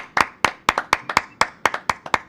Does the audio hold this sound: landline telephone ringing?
no